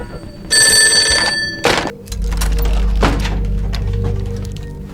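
An old-style telephone bell rings in a movie scene, a bright metallic trill lasting about a second, followed by heavy thuds and a low rumbling bed of film sound.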